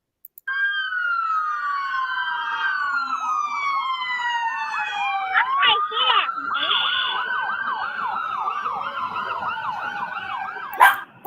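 Police car sirens wailing together in a funeral escort, overlapping rising and falling tones that sweep steadily, loud and fairly close, with a brief honk-like burst in the middle.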